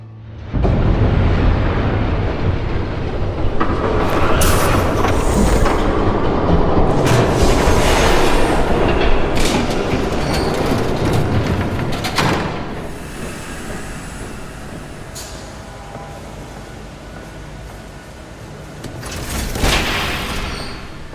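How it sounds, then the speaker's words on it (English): Train approaching and rumbling past in Batman: The Telltale Series, a loud rolling roar with squealing wheels and clattering cars that swells, lingers, then fades, ending with a brief louder surge. "There's a train coming."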